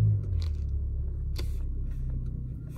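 A Chevrolet Impala reverses in a garage, its engine a low, steady rumble close by, with a few brief scrapes and clicks on top.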